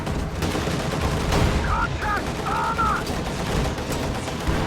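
Anti-tank guns fire at a Panther tank in a real-time strategy video game, a dense barrage of shots and booms under a thick wash of battle noise.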